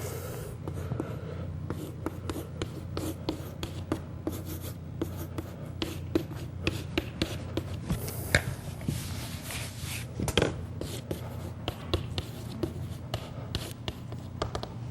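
Chalk taps and scrapes on a board during a mathematics lecture, a fast run of short clicks and strokes in irregular bursts, close and clear with hardly any talk.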